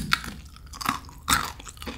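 Crunchy fried chicken with a nacho chip coating is chewed up close, with a few sharp crisp crunches spread over a couple of seconds and no talking.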